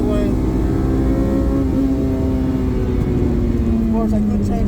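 A Honda Integra holds a steady engine drone while lapping the Braga Vasco Sameiro racetrack, its tone easing slowly lower with someone talking over it.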